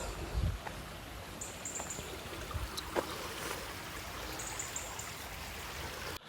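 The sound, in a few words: river flowing downstream past the General Cemetery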